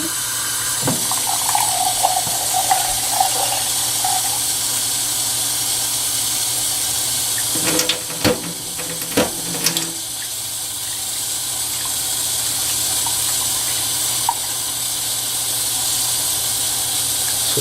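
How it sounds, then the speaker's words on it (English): Cool tap water runs steadily into a sink to rinse seeds for growing microgreens in a jar, a constant close hiss with brief clatters and splashes midway as the seeds are handled. "I want to rinse the seeds first"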